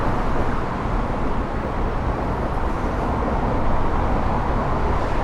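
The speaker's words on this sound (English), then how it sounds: "so the traffic noise is going to be substantial" Dense, unbroken traffic roar from the FDR Drive in Manhattan, a loud broadband wash of passing cars and vehicles heard close by from the street, steady throughout with no pauses.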